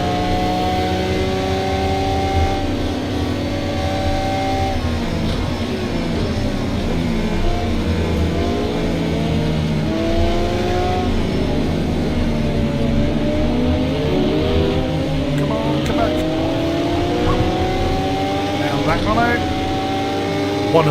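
A roughly 100,000-euro supercar engine in a racing video game revs and whines through sweeping pitch changes as it drifts, with game-style racing audio and other engines humming underneath.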